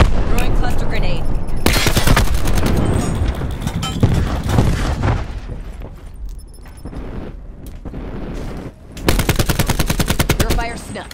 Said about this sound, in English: Throwing cluster grenade.